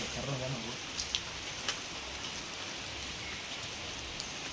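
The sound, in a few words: rain falling at stone temple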